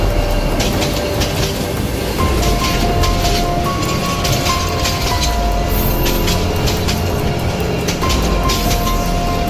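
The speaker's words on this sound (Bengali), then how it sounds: "ট্রেনটি হুইসেল বাজিয়ে ঝিকঝিক শব্দ করে হু হু করে গন্তব্যের দিকে ছুটে চলে।" A cartoon train pulls away from a station with a steady loud rumbling rattle and rhythmic clatter of wheels, while a thin whistle-like tone rises briefly above the noise, with no voices.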